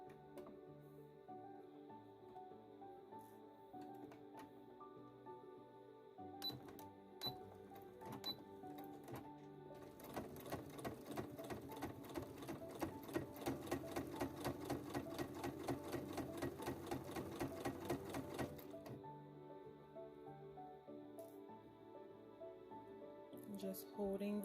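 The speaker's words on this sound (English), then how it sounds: "I'm going to go to the machine and give it a nice stitch." A sewing machine stitches a bias tape seam, its needle chattering in a fast, even rhythm for about eight seconds before stopping, close and clear above a quiet room hum.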